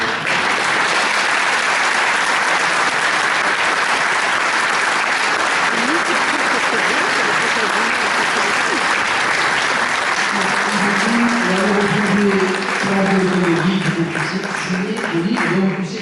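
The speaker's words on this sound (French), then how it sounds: "merci beaucoup pour vos applaudissements" An audience applauds a writer at a literary talk in the south, a sustained, even wash of clapping with voices and chatter rising over it in the second half.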